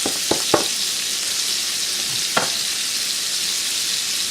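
Food sizzles steadily in a pan of bacon drippings, a dense continuous fry with a few sharp clinks of a utensil against the pan near the start and once midway.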